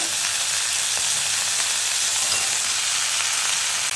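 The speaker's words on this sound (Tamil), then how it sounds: "வெங்காயம் போடலாம். ஒரு வதக்கிடலாங்க எண்ணெயில். அப்போ கத்திரிக்காய் போடலாங்க." Onion and brinjal sautéing in hot oil, a dense, steady hiss of frying held evenly and close throughout, with no talking.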